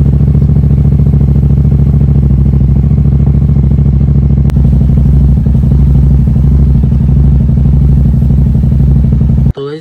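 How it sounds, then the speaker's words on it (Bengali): A motorcycle engine runs at a loud, steady idle right beside the listener during chain cleaning at home, then cuts off abruptly near the end. "তো চলো বাইকটা প্রথমে স্টার্ট দিয়ে নিই।"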